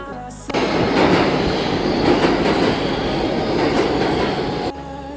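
A New York City subway train riding along, a steady loud roar of wheels and car rumble with faint squeals and clacks running throughout, stopping abruptly near the end.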